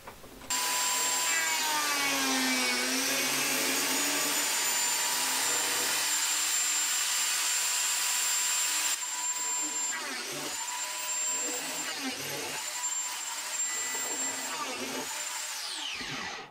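A power tool mills dowel holes into a multiplex plywood workbench with a 20 mm hole grid, giving a loud, steady high-pitched whine that runs for most of the span and shifts pitch slightly as the cut changes.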